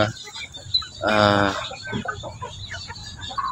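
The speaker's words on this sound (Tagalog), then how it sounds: "native chicken natin ito." Native chickens, around three to four months old, cluck and call nearby in short bursts, with one louder, sustained squawk partway through.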